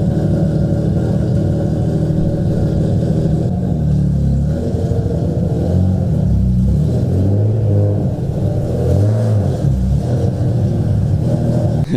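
Infiniti G35 running aftermarket cams, close and loud: a lumpy, loping idle broken by several short throttle blips that rise and fall in pitch, with no speech.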